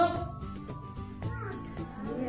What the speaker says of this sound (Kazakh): Міне мысық.